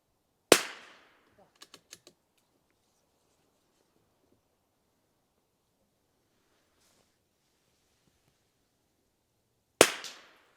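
A rifle shot cracks sharply during precision shooting training, followed by a few small clicks. About nine seconds later a second loud report sounds, with long quiet stretches in between.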